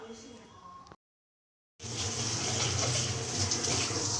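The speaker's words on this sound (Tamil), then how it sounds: "நல்லா கொதிக்குது." Water for upma bubbles at a vigorous boil in a pot, a loud, steady rushing hiss that starts up after a short silence.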